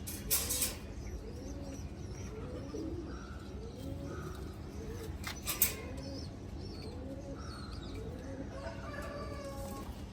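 Pigeons on a farm coo in soft repeated rolling phrases, several calls in a row at a fairly even rhythm. They sound close but quiet, with a few brief sharp knocks and rustles in the background.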